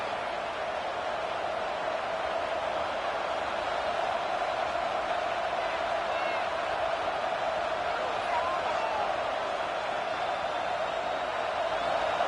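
A football stadium crowd in a video game holds a steady, unbroken roar on fourth down, an even wash of cheering at moderate level with no pauses.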